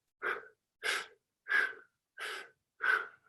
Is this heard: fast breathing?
yes